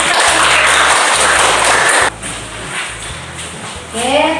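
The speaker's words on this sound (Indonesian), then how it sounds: "Sekian dan terima kasih. Tepuk tangan." A burst of clapping from a class group after a presentation fills the first half, then fades into quieter room noise and a voice starting to speak.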